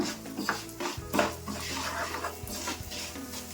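Urad dal, fenugreek, pepper, cumin and coriander dry-roasting in a pan for sambar, with a spoon scraping and stirring in irregular knocks and rattles, close and quiet.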